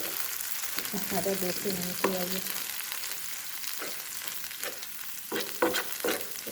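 Chopped onions mixed with mashed dried-fish bharta fry and sizzle in a pan, with a steady hiss under scraping stirs and a short spoken remark.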